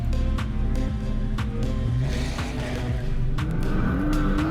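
Hot Wheels diecast cars, a 17 Nissan GTR and a 15 Dodge Charger SRT, ripping down a track ramp in a race: a busy, rattling rumble of wheels on plastic with sliding whines and sharp clicks, no voices.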